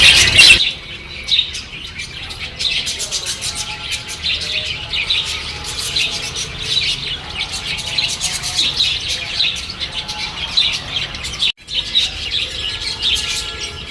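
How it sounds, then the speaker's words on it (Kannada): Lovebirds in an aviary keep up a dense, continuous chorus of high chirps and tweets, loud and close, with a sharp burst at the start and a brief dip near the end, no talk. "ಇಲ್ಲೂ ಒಂದಷ್ಟು ಲವ್ ಬರ್ಡ್ಸ್ ಇದೆ"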